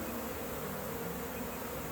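Bee swarm during capture, a dense continuous buzz of many bees close by, loud and steady with no talking over it.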